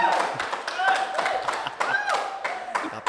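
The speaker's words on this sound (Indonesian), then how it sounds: "Kapan lagi ya podcast ada tepuk tangan sekencang ini ya" A studio audience claps loudly in a podcast studio, a dense burst of applause lasting throughout with sharp overlapping hand claps, while a voice talks over it.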